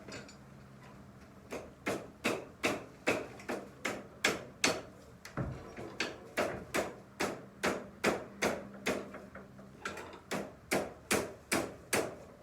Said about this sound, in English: I hammer on this side. Hammer on the sharp side.